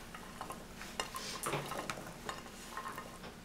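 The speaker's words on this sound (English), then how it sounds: "Dump all these vegetables inside the pan in which we are going to make the stew." Vegetables tumble into a pan for Kerala vegetable stew, a close busy clatter of pieces and utensil scrapes over a faint sizzle.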